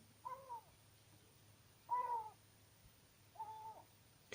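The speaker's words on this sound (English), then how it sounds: "Seagulls. Sometimes they scream so loud down the chimney" Three faint, drawn-out seagull cries sound at spaced intervals, hollow and distant, echoing down a chimney, over a low background hum.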